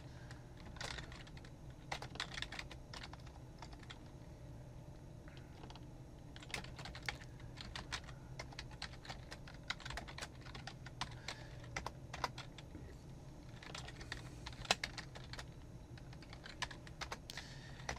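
Someone types on a computer keyboard in steady bursts of quick clicking keystrokes, pausing briefly between runs, close and fairly quiet, with no talking.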